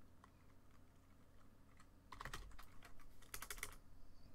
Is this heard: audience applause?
no